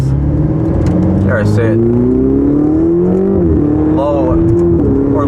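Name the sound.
Ferrari 488 engine accelerating while driving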